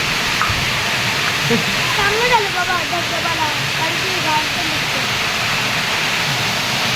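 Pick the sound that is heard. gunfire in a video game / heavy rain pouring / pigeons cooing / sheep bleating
heavy rain pouring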